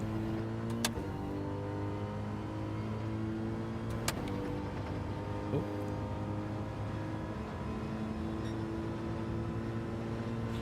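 Race car engine in Gran Turismo 7 holding a steady droning tone with shifting harmonics, a couple of sharp clicks and pitch changes along the way, and a voice talking over it.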